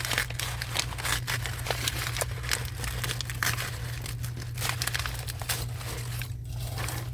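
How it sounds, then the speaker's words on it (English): Steady crinkling and snipping of packaging material as scissors cut through it, close and continuous over a low constant hum. "I'm cutting with a pair of scissors."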